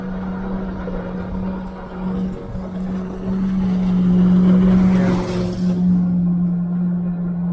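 An Ariel Rider Kepler 52-volt, 1000-watt electric bike ridden fast at around 20 to 30 mph: a steady motor hum with rushing wind that swells partway through, loud and close, with no talking.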